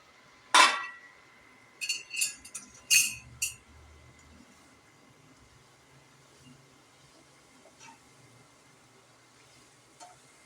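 A spoon scrapes and clinks against a hot kadai as grated carrots are stirred in ghee for carrot laddu, a few sharp metallic squeaks and knocks early on, then sparse soft scrapes under a low sizzle.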